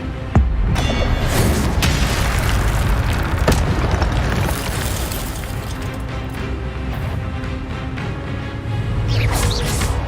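Fire spell explosions in the Hogwarts Legacy video game, a loud booming blast followed by a sustained crackling, roaring rumble of game effects, with no talk.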